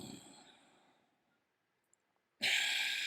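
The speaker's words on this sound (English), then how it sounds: "Hear that breath." A strong exhale during yoga breathing fades out over about a second, followed by near silence with a few faint clicks, then a sudden loud, airy rush of breath close by.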